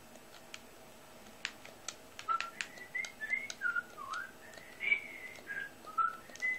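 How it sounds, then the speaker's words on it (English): Someone whistles a soft, wandering tune of short warbling notes, fairly quiet, with a few faint clicks and taps in the background. "Will you stop whistling?"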